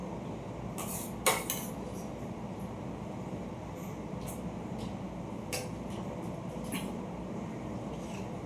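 Fish curry is ladled from a pot into a bowl with a few soft metal clinks scattered over a quiet, steady background hum. No voices.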